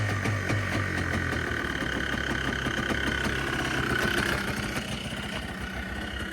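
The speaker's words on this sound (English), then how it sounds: "Trust it's gonna start. Just gotta prime it first. It's a 2-stroke, so you know." A small two-stroke engine idles steadily at moderate distance, a continuous buzzing chug with no voices over it.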